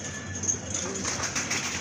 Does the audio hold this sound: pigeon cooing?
yes